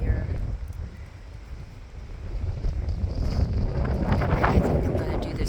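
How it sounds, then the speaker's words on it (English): Strong wind buffets the microphone outdoors at the Capitol Reef National Park visitor center, a loud roaring rumble that builds and gusts harder toward the end. "It's very windy though"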